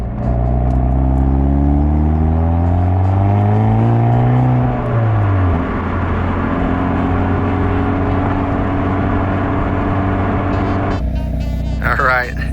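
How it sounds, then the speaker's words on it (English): A 2025 Hyundai Elantra N exhaust idles in N mode with a deep, steady rumble, briefly rising in pitch before settling back to a low, even burble. "This is exhaust just idling in N mode."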